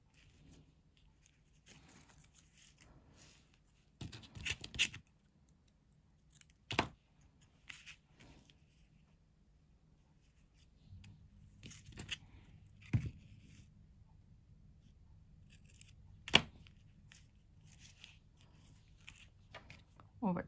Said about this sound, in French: Je vais couper.